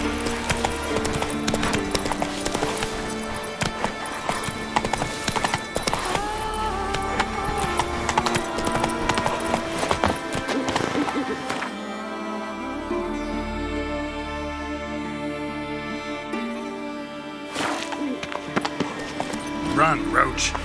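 Horse hooves clip-clopping at a run in The Witcher 3 game, steady and prominent under game music, with a voice speaking over it.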